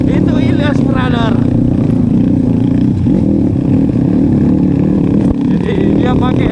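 A Honda Verza motorcycle engine droning steadily on a rough, muddy trail in Bangkala, Jeneponto, loud and continuous with rattling clatter, under someone talking throughout.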